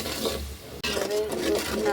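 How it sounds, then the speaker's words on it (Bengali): Sugar melts in a pan with bay leaf and a little water for mango preserve while a utensil stirs it, producing a close, soft sizzle with scraping strokes and a sharp clink partway through. "নাড়া দিয়ে নিচ্ছি যাতে একটু গলে যায় চিনিটা তাড়াতাড়ি।"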